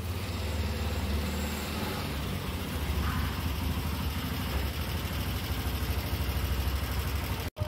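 Steady engine drone of a motorcycle riding on the road, heard from the rider's position with wind noise over a constant low rumble, briefly cut off near the end.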